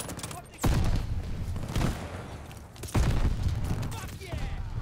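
Gunfire from a single-shot action rifle in Call of Duty Vanguard during the Battle of El Alamein, with loud sharp reports at irregular intervals and an echoing battlefield rumble, with voices talking over it.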